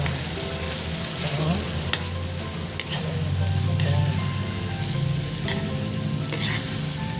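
Eggs sizzling steadily in a pan with bitter gourd and chicken, stirred with a few sharp utensil clinks scraping through the frying, no talk.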